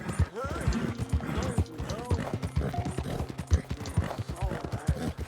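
Rhythmic clip-clop of horse hooves trotting steadily in Red Dead Redemption 2, close and clear, with a horse snorting and voices talking over it.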